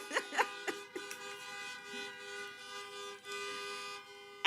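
Car horns honking at a drive-in voter mobilization rally in Las Vegas, sustained tooting and overlapping blasts from several vehicles, somewhat distant, with a sharp close burst at the very end.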